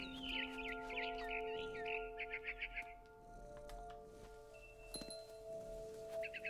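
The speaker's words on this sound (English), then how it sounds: "Then I heard chirping outside my window. It was a barn swallow going back to her nest." A barn swallow in the video game What Remains of Edith Finch gives a quick run of bright, high chirps over a sustained tonal game soundtrack, then falls quiet with a few faint calls later on.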